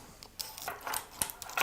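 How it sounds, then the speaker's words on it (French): Scissors snip through the weave of a piece of fabric in a few short, crisp, close cuts separated by brief pauses, with no talking. "avec des ciseaux, il suffit de couper la trame, c'est vraiment enfantin"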